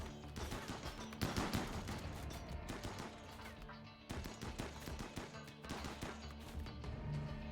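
Assault rifle fire in the video game RimWorld, a dense run of rapid shots and bursts that carries loud and steady almost without a break, with a short dip near the middle.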